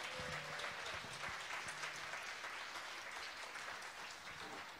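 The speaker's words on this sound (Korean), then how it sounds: "피아노 김효준님께 다시 한번 뜨거운 박수를 보내주시기 바랍니다." Dense, steady applause fills a concert hall at a provincial social welfare event after a chamber group of violin, viola, cello, double bass, accordion and piano, heard at a moderate distance and continuing evenly throughout.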